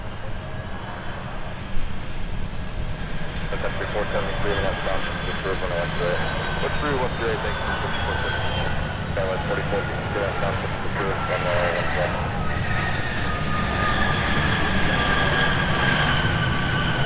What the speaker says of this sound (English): let's swing around and catch Delta 1282 from Las Vegas with a 757